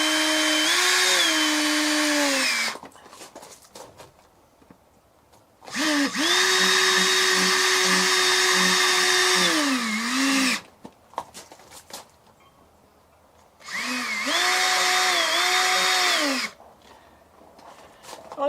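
A power drill drives self-tapping screws into EZ Snap RV skirting studs in three long, loud bursts, each whining up to speed and then winding down, with short quiet gaps between them.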